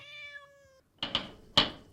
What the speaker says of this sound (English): Who's that knocking at the door?